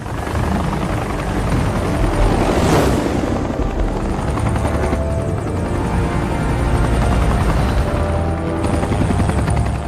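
A helicopter in flight from an action film, its rotor and engine roar loud and steady throughout, with a brief swell as it passes close, no talk.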